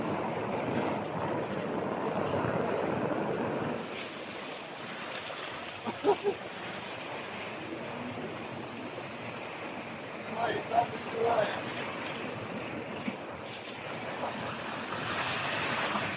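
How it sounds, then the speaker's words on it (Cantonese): Strong wind roars over a continuous wash of high ocean swell during net hauling at sea, with a few faint knocks and voices in the distance. "大風大湧高台"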